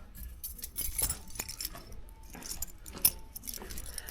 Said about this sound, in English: Let me go ahead and grab the keys for the trunk.